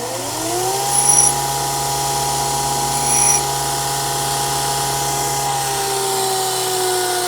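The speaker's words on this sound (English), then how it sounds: "I gotta sharpen that one up again because it hit a few times" Air hammer chisel being sharpened on a power grinder, a steady high whine running throughout with brief louder surges as the chisel meets the wheel, close and alone.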